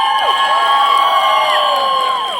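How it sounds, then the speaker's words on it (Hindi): Loud crowd cheering, whistling and applause fill a large event hall as Paresh Rawal is welcomed to his seat, with excited shouts rising over a steady roar throughout. "परेश रावल जी के लिए तालियां बजाइए दोस्तों."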